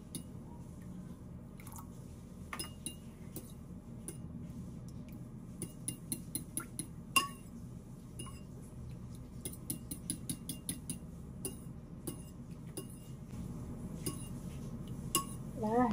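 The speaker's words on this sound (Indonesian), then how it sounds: "kemudian langsung saja telurnya diaduk-aduk lagi sampai merata ya" Three eggs are beaten with water in a bowl for silky Hong Kong-style steamed egg. A utensil taps and scrapes the bowl in quick, irregular clinks over soft wet sloshing, steady and close for the whole stretch.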